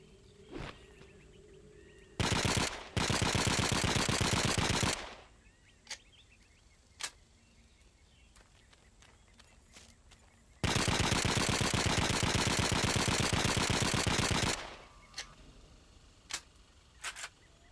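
M3 Grease Gun submachine gun fire in a World War II shooter game: two long sustained automatic bursts, loud and close, separated by quiet gaps with scattered single sharp clicks and shots.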